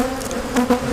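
Honeybees stirred up while a split, weak nuc hive is opened for inspection buzz loudly and close by, with pitch and intensity swelling in bursts.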